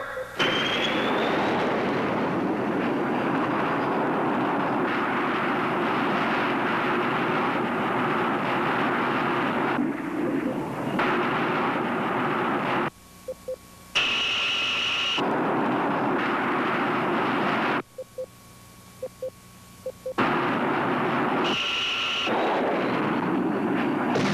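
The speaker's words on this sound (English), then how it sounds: "Counterattack by Hunter-type missile. 2, 1, 0." Hunter-type missile launching in a 1958 film, a loud continuous roaring rush with a rumbling low end, broken by two brief drops in level where electronic beeping tones come through.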